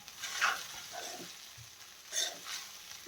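Cooked rice is stirred into a cumin tempering for jeera rice. Soft scraping strokes come in two short bursts over a quiet, low sizzle, with no talking.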